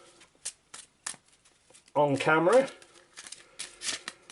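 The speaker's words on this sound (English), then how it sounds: "I'll give them another shuffle" A deck of Arkham Horror mythos cards is shuffled by hand in a series of short, crisp riffle bursts, close by, with a brief spoken exclamation in the middle and talk over the surrounding moments.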